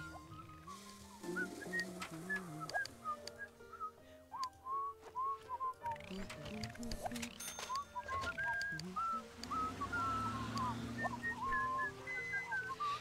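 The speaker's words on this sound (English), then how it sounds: "All the whistling, I hate it. I hate it so much." Repeated whistled tunes from characters in the video game The Sims 1 rise and fall in short melodic phrases over background game music and ambient sounds, continuing throughout.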